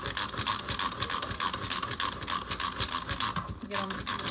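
An onion is grated for meatloaf with quick, rhythmic rasping strokes, close and fairly loud, while a person talks over the scraping.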